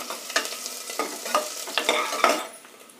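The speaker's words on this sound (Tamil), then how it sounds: "அதில் கொஞ்சமாக வெங்காயம் போட்டு நல்லா பொன்னிறமாக வதக்கணும்." A small amount of onion sautéing in a pan until golden: soft sizzling under repeated scraping stirs, several distinct spoon strokes close by, with no voices.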